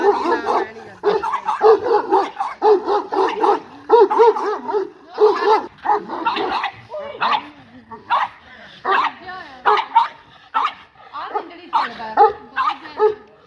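Dogs at a farm with a horse bark and yip in rapid, loud bursts close by, some whimpering mixed in, while people talk underneath.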